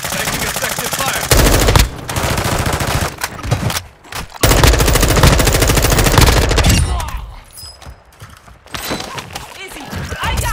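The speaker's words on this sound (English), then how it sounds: "Taking effective fire." Sustained automatic gunfire from the Call of Duty: Modern Warfare II video game, dense loud bursts with short gaps, easing into quieter scattered shots near the end while voices call out over the battle.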